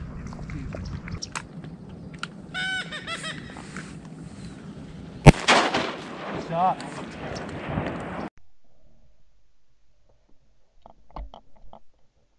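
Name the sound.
gunshots during a waterfowl hunt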